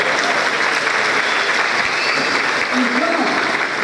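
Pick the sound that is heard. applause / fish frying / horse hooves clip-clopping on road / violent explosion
applause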